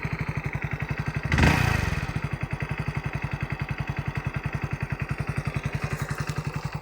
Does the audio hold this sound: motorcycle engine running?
yes